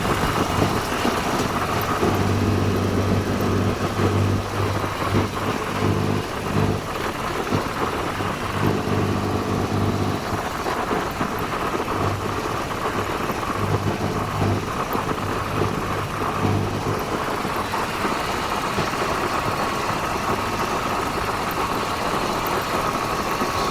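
A Swraj 735 tractor, a seized finance vehicle, runs with a steady, low engine drone throughout, a rhythmic throb pulsing beneath a broad noisy rumble.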